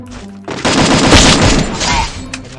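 Rapid automatic bursts from an M4 rifle with a gold extended magazine in a ranked shooter game, starting after a short pause and rattling loudly and continuously, with a faint voice at the start.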